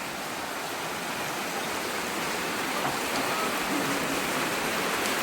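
Heavy rain pours steadily, a dense, even hiss of water striking surfaces, close and unbroken from start to finish.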